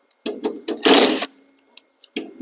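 Screws come off a Lennox 95G2UHO70BV furnace gas valve in several short, close mechanical whirring bursts, one longer than the rest, separated by silence.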